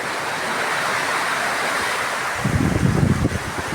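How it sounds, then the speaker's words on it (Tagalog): Strong wind roars into the microphone over surging water, with heavy buffeting gusts growing louder near the end. "Lakas ng hangin."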